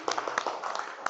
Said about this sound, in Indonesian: tepuk tangan untuk kelompok 1 ya